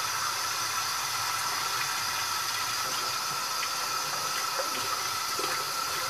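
Water runs steadily from a tap while a stained part of a Baby Alive doll is washed, a loud continuous splashing hiss with small clatters, close and without talking.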